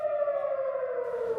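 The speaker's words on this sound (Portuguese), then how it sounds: "Sirenes de alerta soaram ao longo da noite no sul do país." An air raid alert siren wails across southern Israel as a single steady, slowly falling tone, loud and sustained without any voices.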